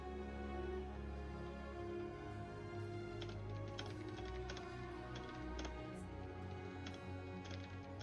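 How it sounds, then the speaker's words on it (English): Faint keyboard typing, irregular light key taps in short bursts, set against a constant low hum in a quiet room. "He's typing."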